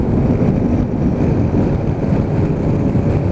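A BMW C650GT scooter pulling out into traffic and accelerating hard toward highway speed, its engine a steady rushing roar heavily masked by wind buffeting on the microphone.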